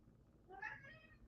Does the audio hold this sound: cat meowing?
yes